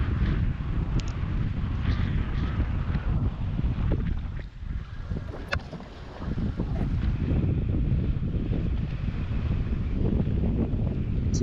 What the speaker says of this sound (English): The wind again got stronger compared to previous ones.